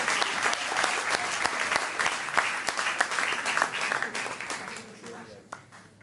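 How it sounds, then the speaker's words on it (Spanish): Congregation in a church bursting into loud applause that holds steady, then gradually thins and fades toward the end, with scattered individual claps trailing off. "Un aplauso a Cristo, claro que sí,"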